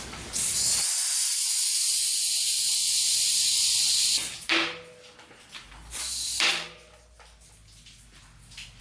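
A loud, sustained hiss of air escaping from a Stan's NoTubes ZTR Valor carbon tubeless bike wheel for several seconds, then stops; shorter bursts of hissing and clattering handling noises follow.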